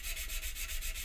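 Rapid strokes of sanding on a small Spitfire scale model make a close, faint rasping rub that repeats in an even back-and-forth rhythm.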